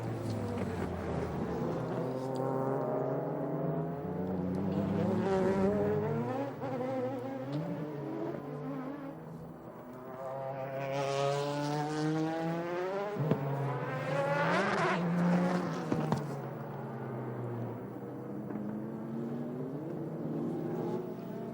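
Ferrari 5.5-litre V12 GT race car at a very wet TI Aida circuit, Japanese GT Championship opening round: a sustained engine drone with rising and falling pitch sweeps as the car passes at a distance, steady throughout, no voices.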